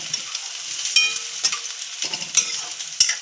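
Chillies sizzle in hot oil as a spoon stirs them in a pan, a continuous bright crackle broken by several sharp scraping strokes, close and fairly loud with no talk.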